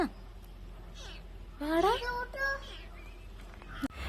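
A few rising, wavering cat meows, close by, with a voice and rustling nearby between calls.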